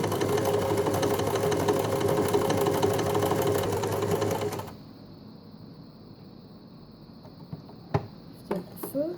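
An Empisal Dressmaker 270D sewing machine sews a tight stitch Q at short stitch length, humming rapidly and steadily for several seconds before stopping abruptly, followed by a few light clicks and knocks.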